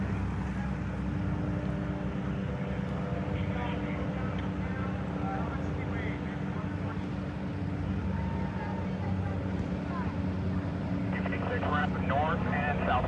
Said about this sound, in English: And here comes the helicopter now.